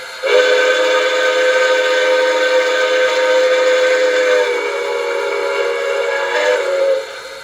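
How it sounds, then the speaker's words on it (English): A single long, loud whistle from an LGB model Sumpter Valley steam locomotive with Zimo sound blows steadily for about seven seconds, bright and close, then cuts off. "F2 is the long whistle."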